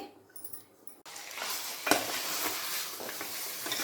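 Chicken gravy cooks in a pan with coriander leaves just added, giving a steady close sizzle and bubbling, with a brief clink of a utensil and stirring noises over the simmer.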